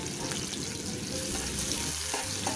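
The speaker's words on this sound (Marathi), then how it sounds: "सोनेरी रंग येईपर्यंत आपल्याला कांदा इथे परतून घ्यायचा आहे" Chopped onions frying with garlic in a pan, giving a dense, continuous close sizzle that stays even and unbroken.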